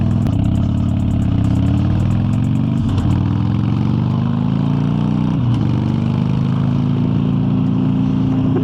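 A motorcycle engine runs steadily at close range through the whole ride, its pitch rising and falling as gears are shifted, with continuous wind noise and no talking.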